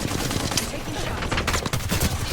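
Apex Legends gameplay gunfire: dense, continuous bursts of automatic shots with sharp cracks throughout, loud and close, with game sounds layered over it and a voice briefly audible.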